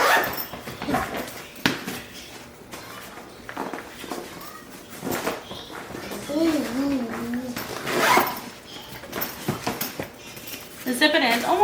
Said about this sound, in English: all you do is you just zip it.